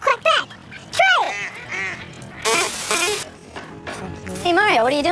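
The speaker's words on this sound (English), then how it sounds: "If you get it right, the ducks will quack back." Ducks quack back in answer to a homemade straw duck call blown hard, giving nasal, wavering honks and squawks in short bursts, close and fairly loud, with a breathy reed-like blast in the middle.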